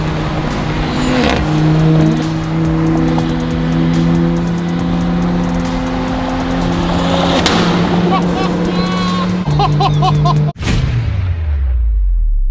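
A powerful Ferrari engine drones and revs loudly at close range, its pitch rising and falling, with voices briefly audible over it before it cuts off abruptly.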